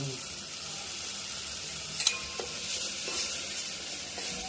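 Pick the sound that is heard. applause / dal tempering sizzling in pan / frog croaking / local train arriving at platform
dal tempering sizzling in pan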